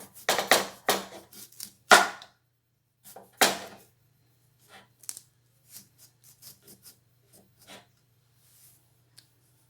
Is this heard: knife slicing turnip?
yes